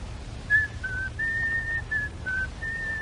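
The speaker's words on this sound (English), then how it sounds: "it's bad luck to whistle in the house" A person whistles a short, wavering tune indoors in a house during a radio drama, several sustained notes with brief gaps, clear over a low background hum.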